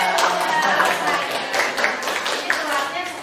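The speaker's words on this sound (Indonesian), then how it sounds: "tepuk tangan buat Bu Dia" Applause for Bu Dia, a teacher, at a school teacher-training presentation, with scattered hands clapping through steady room noise while voices talk over it.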